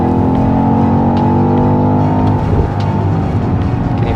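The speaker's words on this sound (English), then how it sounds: "a V8 being so quiet, so muted and refined is just simply unheard of" The V8 engine of a BMW XM drones inside the cabin on a road trip, a steady, smooth, muted hum without sharp revs.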